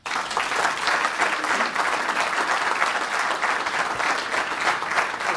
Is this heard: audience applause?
yes